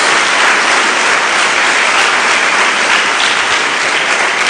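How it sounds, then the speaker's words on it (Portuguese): Loud, sustained clapping from a church congregation during worship, continuous and even from start to finish with no talk over it. "Mais uma salva de palmas a Jesus."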